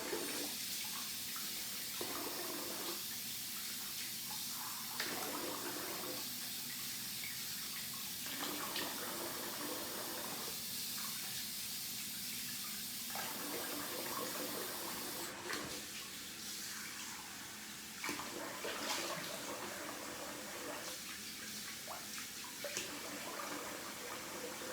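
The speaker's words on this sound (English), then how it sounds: "So I'm gonna rinse off here." Water running from a tap while someone rinses off after a shave with a Schick Injector razor, a steady hiss broken by splashing pauses as hands move through the stream, with no talk.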